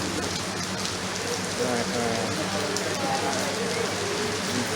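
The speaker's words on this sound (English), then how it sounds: "It's raining." Rain falling outdoors in Jamaica, a steady hiss of drops on surfaces, with voices talking faintly underneath throughout.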